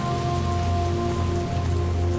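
Steady rain falls on a hard surface outdoors, a continuous even patter heard alone with a faint tonal hum beneath it.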